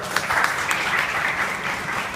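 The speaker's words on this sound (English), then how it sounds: "Can we have a big round of applause for Ajay?" Steady round of audience applause at a live event, continuous and fairly close throughout with no talking over it.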